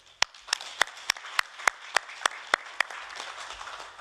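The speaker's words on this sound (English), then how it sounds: "I invite you to applaud them." A summit audience claps in slow, evenly spaced hand claps, about a dozen sharp beats, under a thin murmur of scattered applause.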